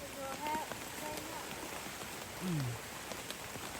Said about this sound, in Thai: ฝนมันตกตลอดเลยนะทุกคน